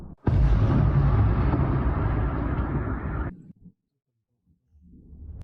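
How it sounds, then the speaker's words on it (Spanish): A massive, roaring blast from Ukrainian rocket weapons striking a thermal power plant rumbles loudly for about three seconds, then cuts off to near silence before a low rumble faintly returns. "solo explosiones tan potentes como estas"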